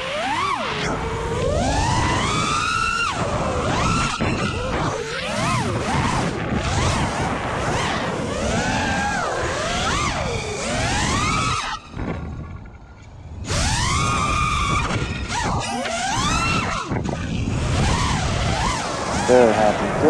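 Small FPV drone built on a TBS Source One frame with Emax Eco motors, flying with a continuous whining motor buzz that swoops up and down in pitch, close and loud, with a short quieter lull midway.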